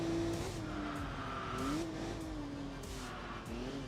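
A heavily modified Porsche 911 GT3 races in Enthusia Professional Racing, its engine droning and revving continuously up close, the pitch rising and dipping through gear changes, with brief tire squeal and skids.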